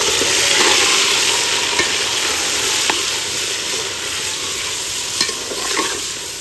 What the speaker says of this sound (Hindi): और जो है ना चिकन ऐड कर रहे हैं